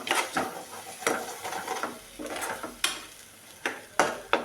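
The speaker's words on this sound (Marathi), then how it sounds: "अद्रक लसूण पेस्ट थोडंसं घालून घेते मी थोडीशी आणि परत छान असं परतून घ्यायचं" Ginger garlic paste sautéing in a pan for cashew curry, with a steady soft sizzle broken by repeated scraping strokes of a spatula against the pan, fairly quiet and close.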